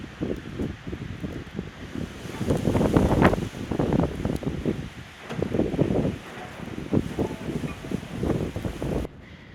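Strong wind in a mountain blizzard buffets the microphone in loud, surging gusts that rise and fall continuously, rough and roaring, with no voices.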